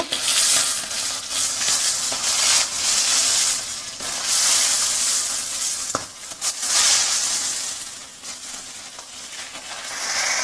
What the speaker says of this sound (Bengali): ইলিশ মাছের মুড়েগুলো ভেজে নেব